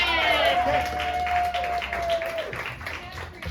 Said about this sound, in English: Start clapping now for Jeffrey Emerson!